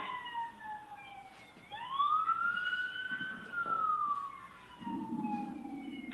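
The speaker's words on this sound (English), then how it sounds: "I can hear the sirens now." A distant siren wails in a slow rising and falling sweep, moderately faint, with traffic rumble underneath.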